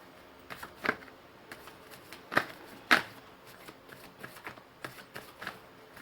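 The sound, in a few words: tarot cards being shuffled from a deck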